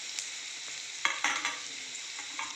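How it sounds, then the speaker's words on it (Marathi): Chopped onion fries in hot tempering oil in a pan, a steady close sizzle with a few soft scrapes as it is stirred, no voices. "पॅनमध्ये आपण आता फोडणी करून घेतलेली आहे. त्याच्यामध्ये मी आता कांदा टाकून घेतो"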